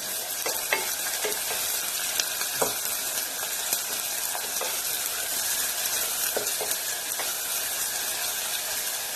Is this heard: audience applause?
no